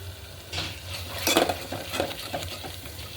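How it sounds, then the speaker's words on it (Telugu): Spices, coriander powder and chili powder are stirred through a masala in a pan with a spoon, producing a few scraping clinks and soft sizzling over a short, fairly quiet stretch. "ఇదంతా ఇలా కలిపేసుకున్నాం."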